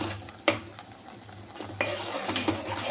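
Milk powder is stirred into milk in a pan for a mango and rice payesh, giving soft scraping and a few sharper spoon-on-metal knocks at close range, fairly quiet and steady, with no talking.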